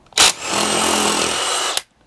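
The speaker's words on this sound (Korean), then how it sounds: "GDX가 아무래도 이 육각형에 물려서 렌치로 바로 풀다 보니까 조금 더 수월하게 풀린 것 같고" A Bosch GDX 18V-210 C cordless impact wrench loosening a hex bolt, opening with a sharp hammering burst, then whirring steadily for about a second and a half before stopping with a short clack, close and loud.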